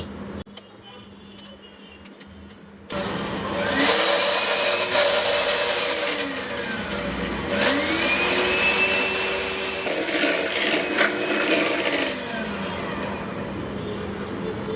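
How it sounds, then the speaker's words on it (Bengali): An electric beater whips sugar and butter, kicking in abruptly with a loud, steady whirring drone that rises and falls slightly in pitch as it works, running on with occasional talk beneath. "এইগুলাকে আমি বিটার দিয়ে বিট করে একটু ফুলাই নিব"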